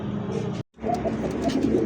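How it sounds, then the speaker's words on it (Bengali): Bombay pigeons coo close by in a loft, steady low throaty calls running through nearly two seconds, cut by a brief silent gap before the cooing resumes louder. "আজকে যে ডাকতেছে কবুতরগুলো দেখেন, বোম্বাই কবুতর"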